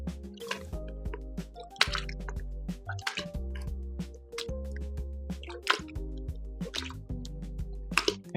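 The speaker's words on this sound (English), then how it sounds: "Okay, so this is some cold water, and we're going to use that to rinse the butter." Cold water trickling and dripping over homemade European-style cultured butter during rinsing, with wet squishing and small plops repeating steadily throughout, close and moderately quiet, no voices.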